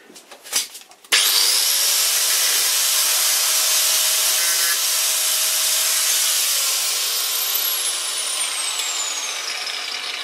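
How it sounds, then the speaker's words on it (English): After a brief clatter, an angle grinder spins up and grinds scrap metal for a bowl gouge. It holds a loud, steady, harsh hiss that eases slightly in pitch and level toward the end. "It's angle grinding time."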